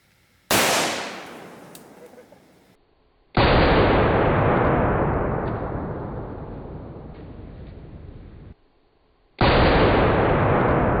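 Three loud AR-15 shots fire brush hog rounds into a pork shoulder, each a sharp crack with a long, rolling decay. The shots are spaced several seconds apart, and there is no talk.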